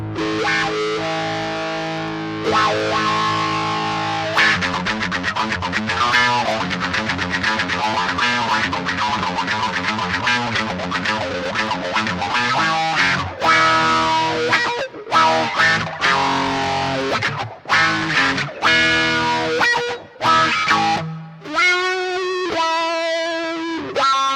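Electric guitar played through a Donner 2-in-1 mini wah volume pedal into an amp with cab emulation and heavy reverb, sweeping wah tones over distorted chords and riffs, loud and continuous, ending in sustained feedback-like notes.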